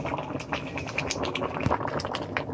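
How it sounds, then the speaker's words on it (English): Black bean stew with fresh spinach simmers in a pot, giving a steady, dense bubbling that stays even and close throughout, with no voices. "I'm going to let that simmer"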